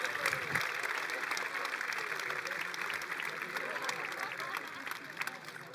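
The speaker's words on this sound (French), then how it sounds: "un tonnerre d'applaudissements, s'il vous plaît, pour les administrateurs" Audience applause for local administrators at a community awards ceremony in Grand Angoulême, a steady, fairly distant wash of many clapping hands lasting throughout.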